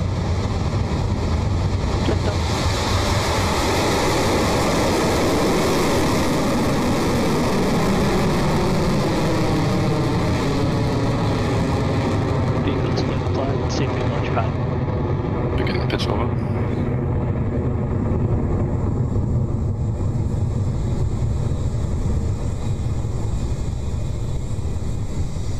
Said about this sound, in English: The beginning of the swarm has begun its ride to space with that clean Electron liftoff